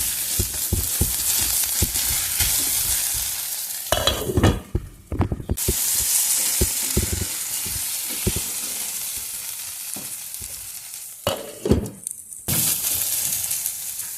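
Salted upma sizzles and fries in a pan, a bright continuous hiss interrupted by scraping stirs and clattering, with a lid clanking on and off twice.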